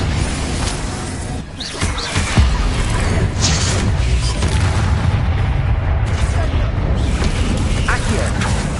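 A Confringo spell explosion in Hogwarts Legacy on PS5 lands as a loud, dense boom among continuous rumbling game effects, with a voice briefly over it.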